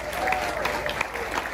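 At a live show, an audience gives a short burst of applause for a singer, moderate clapping mixed with faint crowd murmur.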